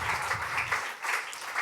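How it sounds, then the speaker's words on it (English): A studio audience gives a brief round of applause for Gok Wan at a live event. The clapping is steady and fairly loud and dips for a moment partway through. "Round of applause for Gok Wan"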